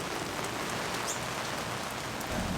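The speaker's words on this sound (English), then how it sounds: "It is raining non-stop." Rain falling non-stop on a small tent, a dense continuous patter of drops on the fabric, close and even throughout with no voices.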